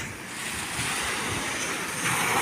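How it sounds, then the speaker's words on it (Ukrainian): Sea waves wash onto a beach in Tuscany on a calm morning, a steady broadband surf wash with some wind noise on the microphone, continuous and fairly close, with no voices. "Ось таке море. Море, море."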